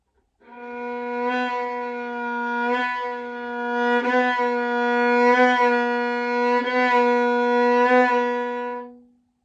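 A sustained bowed violin tone with a slow, wavering pitch, the vibrato moving fast upward and slow downward in regular swells across several seconds, played solo.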